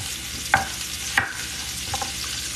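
Citrus carrots roast in a hot pan with a constant sizzle, broken by a few sharp scrapes and knocks as they are stirred. The frying sound is close and steady, with no talking.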